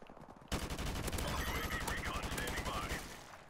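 AK-47 gunfire in Call of Duty Modern Warfare Remastered bursts out in a rapid, sustained automatic stream of sharp, evenly spaced shots, loud and close, with faint game sounds around it.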